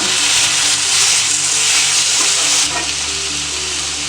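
Tomatoes sauté in a pan with chili powder and turmeric for a scrambled egg curry, giving a loud, dense, continuous sizzle and hiss close up, steady throughout with a slight drop near the end and no talking.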